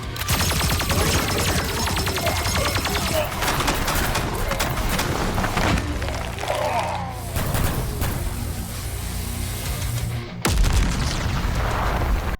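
Kamen Rider hero blasting monsters in a battle scene, with dense, loud booming explosions and bursts layered over a driving music track, continuous throughout with brief drops near the end.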